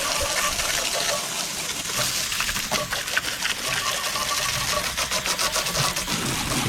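Garden hose water spraying onto a lawn mower deck, a steady hissing splash with spattering backsplash, loud and close throughout, with no voices.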